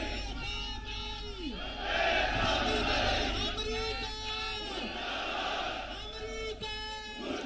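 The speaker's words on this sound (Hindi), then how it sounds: "दिल्ली के जंतर मंतर पर भारी भीड़ जुटी हुई है" A large protest crowd at Jantar Mantar in Delhi chants in loud, rhythmic unison, rising and falling slogans repeating every couple of seconds with a dense wash of voices behind.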